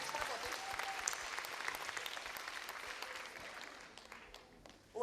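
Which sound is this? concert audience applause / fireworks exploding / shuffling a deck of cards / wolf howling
concert audience applause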